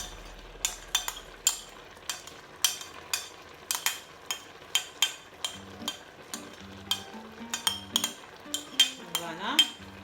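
Ingredients and onions being stirred into spinach in a pot for a Congolese dish with seed sauce, with repeated close metal clinks and scrapes of a utensil against cookware in an uneven rhythm, a faint low hum underneath.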